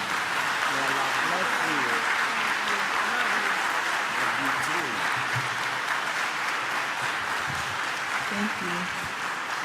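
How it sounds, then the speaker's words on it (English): Warm audience applause welcoming a student minister to the stage, a sustained, loud sheet of clapping that runs throughout while someone speaks briefly over it. "Please help me to receive her with a warm round of applause."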